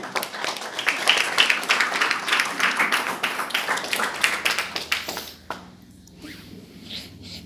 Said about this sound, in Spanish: Dar una ofrenda de palmas a Dios